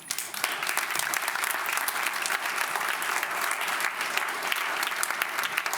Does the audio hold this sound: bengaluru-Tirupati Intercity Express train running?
no